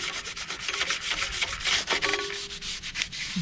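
Hand sanding scuffs car body paint ahead of 2K filler primer, a steady run of close, raspy back-and-forth strokes with a quick repeating rhythm and no talking.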